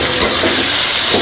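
Prawns fry in oil in a pan, giving a loud, continuous close hiss that holds steady throughout with no talking.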